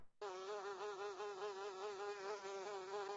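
Bees buzzing in a video game, a steady close droning buzz with a strong wavering tone that starts abruptly and holds throughout, alone.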